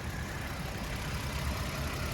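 Steady idle of a 2022 Toyota Tundra's twin-turbo V6 with about 90,000 miles, a smooth, even low rumble running close by without pause and no voices over it.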